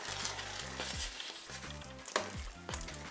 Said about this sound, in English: You have to mix this very fast